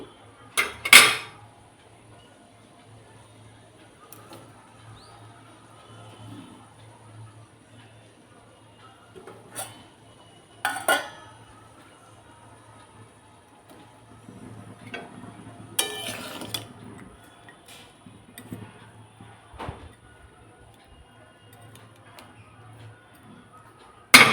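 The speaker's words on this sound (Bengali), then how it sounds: "আমি এখানে জাস্ট একটু নেড়ে নিলাম তেলে" Hilsa fish being stirred in oil in a pan, giving a few sharp metallic clinks and scrapes of a utensil against the pan, spaced out over a quiet kitchen background with no talk.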